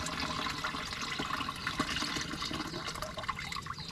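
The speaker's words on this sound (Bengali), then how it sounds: "এই আমাদের হোমমেড জৈব নাশক এটা ঢেলে দিচ্ছি" Homemade organic pesticide brewed from neem leaves is poured into plain water, a steady splashing liquid pour that runs throughout, sounds close and is heard without talk.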